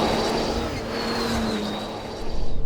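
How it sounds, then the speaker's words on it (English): A Bentley Continental GT Speed launches hard under launch control, its engine giving a loud, continuous roar with a rising whine that builds throughout the brief burst. "launch control, brake, accelerate. Whole thing's shaking."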